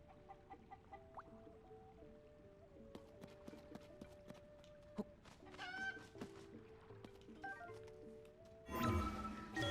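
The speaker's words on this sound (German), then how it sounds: "Tschüss, liebe Hühner." Chickens clucking in the video game Zelda: Tears of the Kingdom, a steady string of soft clucks and short calls close by, with a louder flurry of flapping or scuffling near the end.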